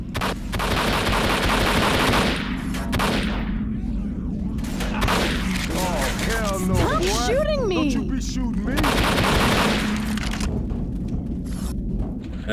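Dense gunfire in the zombie shooter game Left 4 Dead 2: rapid automatic bursts and heavy booming shots pound continuously and loudly, with players' voices cutting in over the shooting.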